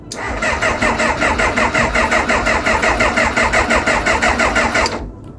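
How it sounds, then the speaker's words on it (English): A small Kawasaki motorcycle engine, long unused in a garage, cranks and catches, then runs with a rapid, even chugging pulse before cutting off abruptly near the end. "And then you switch the ignition on. And hopefully it will turn."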